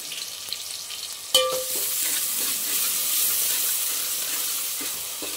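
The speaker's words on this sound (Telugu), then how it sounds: "కొంచెం బ్రౌన్ కలర్ వచ్చేంత వరకు వేయించుకుందాము" Green chillies and bay leaf frying in oil in a pan for a spicy chicken curry, a steady loud sizzle with a sharp burst as they drop in, then continuous hissing with light stirring.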